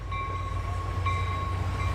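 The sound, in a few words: train passing in Niles Canyon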